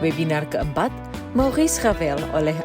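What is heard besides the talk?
None of the usual background noises is heard.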